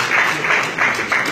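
Sustained clapping from an audience at an award ceremony in a New York hotel, loud and close, pulsing in a few swells over roughly a second with no voices on top.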